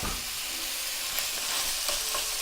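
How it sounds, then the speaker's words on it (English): Sausage meat, squeezed out of its casing, fries in a pan for a sausage and white bean stew, giving a steady, close, hissing sizzle that runs unbroken throughout with no talking. "And you just fry it up like this."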